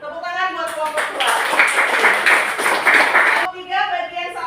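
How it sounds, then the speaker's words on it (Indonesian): Classroom applause for a student group, a dense burst of many hands clapping for about three seconds, framed before and after by a teacher's voice. "Nah, tepuk tangan buat kelompok 2."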